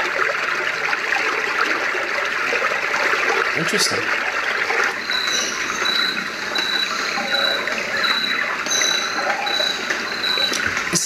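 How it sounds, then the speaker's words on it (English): Continuous watery rushing from a Roffie N500 portable white noise sound machine, like someone wading through water, with faint high chirping animal-like tones over a steady hiss; a voice speaks briefly. "It sounds like as if someone's walking in water."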